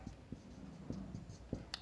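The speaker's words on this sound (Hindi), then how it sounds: "फिर लिखेंगे" Pen or chalk writing during a class 12 physics lesson on electrostatics: faint, close scratchy strokes in short irregular bursts, with a few small taps and a quiet background.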